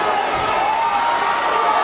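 A steady roar of a cheering crowd fills an MMA fight venue during the Galitello versus Nick Sprayberry bout, a dense, continuous wash of voices with no single shout standing out.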